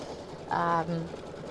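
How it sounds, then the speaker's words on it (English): A Brother Solaris Vision sewing machine embroidering quilting borders gives a short, loud motor whir lasting about a third of a second, followed by a softer hum, against a quiet room background. "the only time we get to rest is when we're watching our sewing machine sew"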